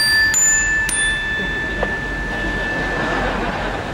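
An automated Kansas City taxi, Auto Cab, sounds two quick bright chime tones at the start, ringing briefly over a constant hiss and hum inside the cab.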